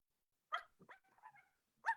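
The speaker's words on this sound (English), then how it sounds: "Maxine has begun letting out fierce little barks" A small dog named Maxine lets out a few fierce little barks and yips, close and clear, in a quiet room with short pauses between them.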